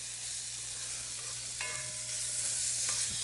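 Bacon sizzling in a Lodge Cook It All cast iron cooker, a constant bright crackling hiss with a low hum beneath and a couple of faint tonal rings.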